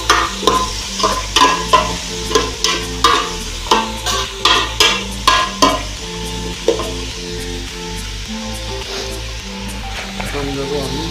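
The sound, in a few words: stirring food frying in a pan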